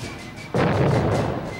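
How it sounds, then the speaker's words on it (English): A ceremonial cannon fires during a military parade in Gettysburg in 1863, one sudden loud boom with a long rolling rumble that lingers after a quieter stretch. "Every minute along the way, a cannon was fired."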